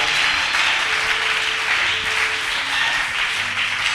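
Church congregation applauding and cheering during a worship service, a steady dense wash of clapping that holds loud and even throughout with no clear pauses.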